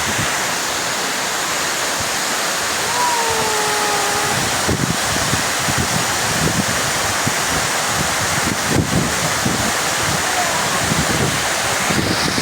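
Bari waterfall roars as a continuous broadband rush of falling water, loud and close, with wind buffeting the microphone and brief faint voices in the background.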